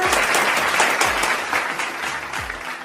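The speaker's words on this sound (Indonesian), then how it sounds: "tepuk tangan dulu untuk Kak Kiswa." A studio audience on a podcast applauds the guest, a student award recipient. The clapping is loud and continuous for a few seconds, with some low thumps underneath.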